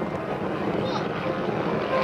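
A Stearman PT-17 biplane engine sputters while flying inverted during an air show routine, a steady broadband drone with wind noise, distant and continuous throughout the short moment.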